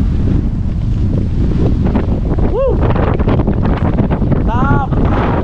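Strong wind buffets the microphone at a wind farm in Sidrap, making a constant loud rumble, while voices talk briefly over it.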